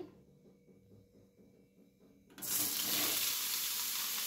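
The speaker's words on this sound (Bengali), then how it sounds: "সেই ঘিয়ের মধ্যে আমি এই পনিরগুলিকে এভাবে ফ্রাই করে নিচ্ছি" Paneer pieces drop into hot ghee in a pan, a quiet start giving way to a loud, sudden, steady sizzle that fills the rest, with no voices.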